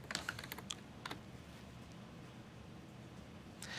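Computer keyboard typing while renaming a column in Power BI: a quick cluster of crisp key clicks at the start, a pause of quiet room tone, then a few more keystrokes at the end.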